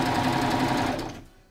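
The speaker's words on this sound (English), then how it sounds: "Always be sure your presser foot is down before you start serging." Serger sewing machine running steadily as it stitches crib sheet fabric, a dense continuous whir that holds loud and then trails off as the machine slows to a stop.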